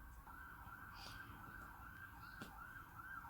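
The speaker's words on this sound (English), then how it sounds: "Siren going off there." A wailing siren sounds outside, a faint, distant rising and falling tone that holds steadily over several seconds above low background rumble.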